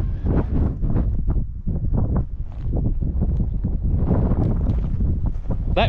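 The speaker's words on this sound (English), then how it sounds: "That wind's really blowing up now." Strong wind buffets the microphone at an outback waterhole, a loud, continuous rumbling roar with gusting surges that holds steady throughout.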